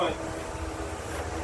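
A portable power station's fan blows steadily, a constant airy whoosh with a low hum, close and even throughout.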